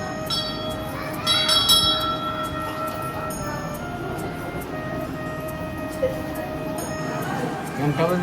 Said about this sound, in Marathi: घंटी कशी वाजवायची अशी अच्छी वाजवायची